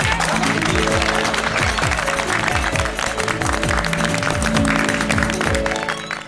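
A group of people clapping together at a lively gathering, bright sustained applause mixed with a rhythmic musical beat underneath, loud and steady throughout before easing at the end.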